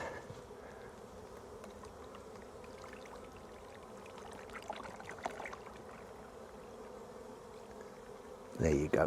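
Honey bees drone steadily around a nucleus colony being moved into a full-size hive and fed sugar syrup, with brief close handling noise near the end.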